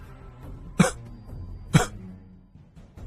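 Two short, soft coughs about a second apart, faint and close, with low background rumble and no talking.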